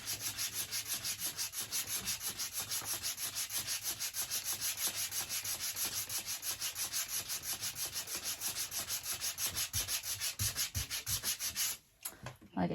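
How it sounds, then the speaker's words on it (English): Paint being sanded off a wooden chair to distress it: fast, steady rhythmic rubbing strokes, close and continuous, stopping briefly near the end before resuming. "because she wants it heavily distressed, I get to just sand it away"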